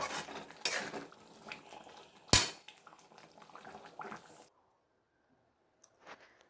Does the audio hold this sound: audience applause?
no